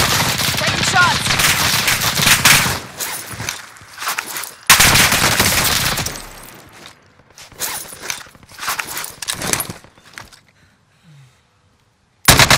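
Gunfire in Call of Duty: Modern Warfare, loud close bursts of rapid automatic shots broken by short gaps, tapering into scattered quieter shots and near silence before a final burst.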